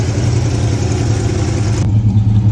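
A blue truck's carburetted engine idles steadily and loudly close by, a continuous low rumble with a slight shift in tone near the end and no talking.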